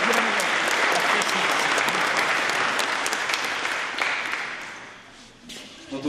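A concert audience at an orchestra's tenth-anniversary event applauds in a broad, dense wash of clapping that holds steady, then fades away near the end.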